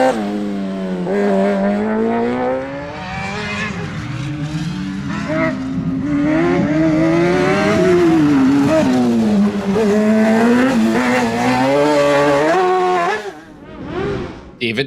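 Racing buggies roar past at Shackleton, including a Class 15 buggy with a 1000cc engine, one loud engine note climbing and falling through gear changes for about thirteen seconds before dropping away near the end.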